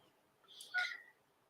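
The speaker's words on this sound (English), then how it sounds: "I can hear her meowing" A single faint, distant meow, high and brief, against quiet room background.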